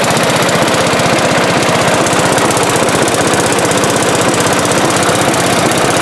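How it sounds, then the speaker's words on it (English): A loud, steady engine idle with a fast, rough knocking pulse that holds an even rhythm throughout, close and continuous. "It's idling and everything."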